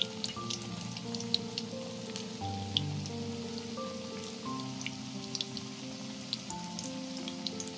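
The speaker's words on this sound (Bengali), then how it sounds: "এইভাবে কয়েকটা বড়া আমি দিয়ে দিলাম তেলের মধ্যে।" Brahmi leaf fritters dropped into hot oil fry with a steady, fine crackling and popping that runs without pause, close and moderately loud, with no talking.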